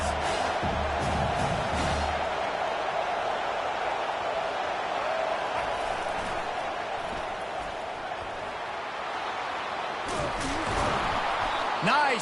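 A football stadium crowd at a Colorado versus South Carolina game roars steadily behind a defense on a big third down, a broad continuous cheer swelling again near the end.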